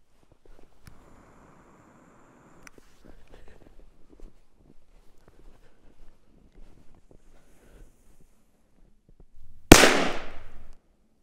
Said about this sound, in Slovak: je to Titan Blitz, 4 gramy, fakt kvalitná, stará, vzácna petarda, tak uvidíme, aký to bude kráter